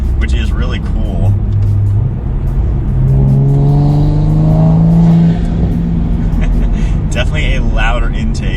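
Toyota Supra engine fitted with an Armaspeed carbon fiber air intake, revving up and climbing in pitch for a few seconds, then falling back to idle, loud and close with a throaty intake tone.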